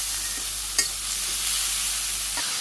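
Potato, ash gourd peel and papaya for a village chochchori fry in a pan, a close, steady sizzle with occasional scraping stirs and a brief sharp knock near the start.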